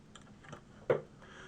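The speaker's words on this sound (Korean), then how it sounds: "한번 클릭해갖고 누를 때마다 따깍따깍 소리가 나요." A few soft, sharp computer mouse clicks sound close by in a quiet room, spaced unevenly, with the third click noticeably louder.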